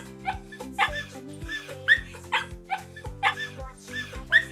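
A puppy gives a string of short yips and high whimpers, about eight quick calls in uneven bursts, close and clear with no talking.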